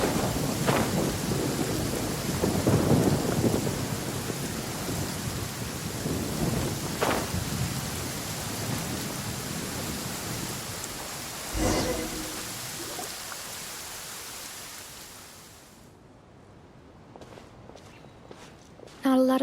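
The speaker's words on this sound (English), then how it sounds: "Taking a stroll in the middle of a downpour certainly rouses the spirit." A downpour in Genshin Impact with rumbling thunder and steady rain, heavy at first and then easing before fading near the end, with footsteps and a voice heard over it.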